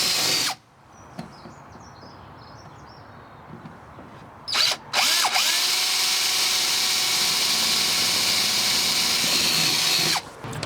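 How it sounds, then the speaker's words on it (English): A power drill bores a hole straight through a garage door while fitting door bolts, starting with short bursts and then running in one loud, steady, high whine for several seconds close by before stopping. "then we can drill our hole straight through"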